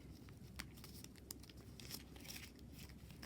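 Cut paper for a marigold-style paper flower is unfolded, giving soft, faint crinkles and rustles with a few sharper crackles, close and quiet, no talk.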